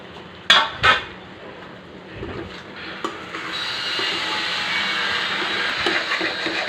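A spoon scrapes and clatters against a pan while a potato and tomato side dish is stirred, with two sharp metallic knocks at the start, then a steady sizzling hiss and soft scraping, close and without talk.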